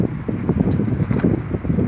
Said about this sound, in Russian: Ветер подул, значит, дождик скоро будет